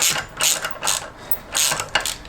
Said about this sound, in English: we can go back to our ratchet and just take our bolts off